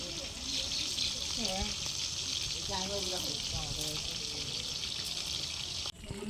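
Skinned tangra fish being washed in water for a village Bengali recipe, a steady broad rushing and splashing wash throughout, close, with a voice talking faintly over it.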